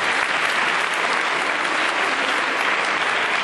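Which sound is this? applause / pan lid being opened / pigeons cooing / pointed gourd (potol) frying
applause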